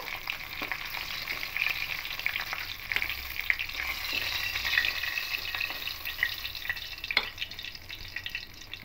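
Fish heads frying in hot oil for a fish head kalia crackle and spit, sizzling close by while a spatula stirs and scrapes, with irregular pops and clinks.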